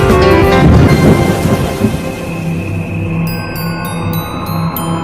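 Rain falls with a loud rumble of thunder at the start, then settles into a steady wash of rain while tonal music and sharp repeated effects play over it.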